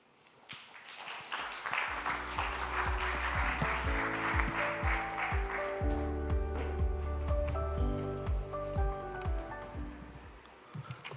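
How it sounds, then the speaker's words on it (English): Audience applause at an aviation legal seminar welcoming a speaker, a sustained broad patter of clapping hands heard throughout, with a low musical tone sounding underneath. "May I suggest welcome Mr. Choi with applause"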